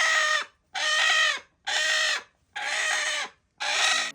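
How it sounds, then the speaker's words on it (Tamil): A hen in a coop gives five loud, evenly spaced squawking clucks, each about half a second long, with short gaps between them. The calls are close, harsh and sound alone. "தினமும் என் முட்டையெல்லாம் தின்றுன்னு இந்த கோழி ஒரே கதறல்"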